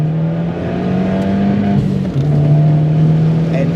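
A Fiat Abarth 124 Spider, a lightweight rear-wheel-drive roadster, holds a loud, close, sustained exhaust drone while accelerating, with a brief dip and shift in pitch midway before the note settles again.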